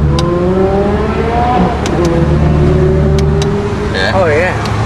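Exhaust of a Lamborghini Gallardo Spyder revving loudly up close, with harmonic tones climbing and falling through several blips, while people talk over it.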